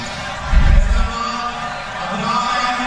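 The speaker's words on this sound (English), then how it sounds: "They've got reason to cheer." Spectators at a Pakistan vs South Africa one-day cricket match in Faisalabad let out a short swell of cheering that settles into a steady crowd murmur.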